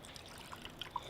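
Water dripping and trickling from a squeezed sponge, close and quiet, with several distinct small drops splashing over a soft running dribble.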